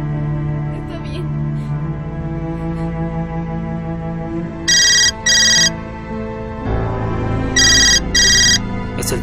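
A phone rings in two pairs of bright electronic trills over a low background hum and faint room sounds.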